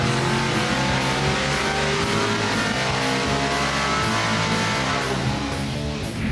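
A 400 horsepower street engine fitted with E3 spark plugs revs steadily on a test stand, a loud, dense, continuous roar with a rhythmic pulsing that holds through the whole stretch.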